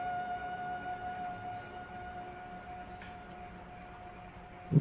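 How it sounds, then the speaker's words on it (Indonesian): Crickets chirp at night in a continuous, faint, even drone, with a brief soft knock at the very end. "hanya ada suara derikan jangkrik mengiringi heningnya"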